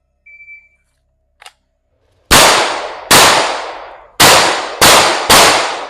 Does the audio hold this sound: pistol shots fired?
yes